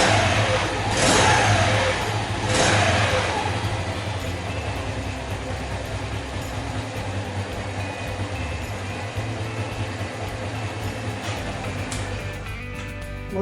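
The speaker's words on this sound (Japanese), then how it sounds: "一旦ここでねエンジンかけます" A copy motorcycle engine turns over and catches, giving a couple of sharp revs early before settling into a steady mid-pitched idle that runs close by and then cuts out near the end.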